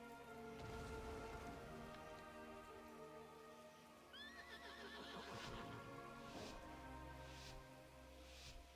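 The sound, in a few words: donkey braying in a video game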